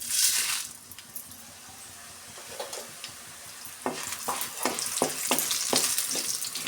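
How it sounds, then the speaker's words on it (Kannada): Byadgi chillies and coriander seeds frying in a pan for chicken sambar: a soft sizzle at first, then a quick series of sharp stirring scrapes and clinks in the second half, close and fairly clear, with no talking. "ಇದನ್ನೆಲ್ಲ ಸೇರಿಸಿ ಸ್ವಲ್ಪ ಫ್ರೈ ಮಾಡ್ಕೊಳ್ಳೋಣ"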